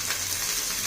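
Carrots, beans, cabbage and potato with ginger-garlic paste and whole spices frying in a pan for pulao, a steady close sizzle.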